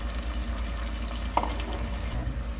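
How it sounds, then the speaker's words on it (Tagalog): Annatto (atsuete) sautés in a pan for kare-kare sauce, a low steady frying sizzle with soft stirring scrapes and one brief clink of a utensil midway. "Tapos, sagain natin yung ating atsuete."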